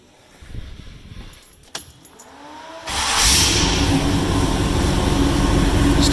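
A 1931 Ford Model A roadster street rod with a Chevy small-block V8 and tri-power cranks and fires up, settling into a loud, steady rumbling idle close by after a few seconds of starter and clatter.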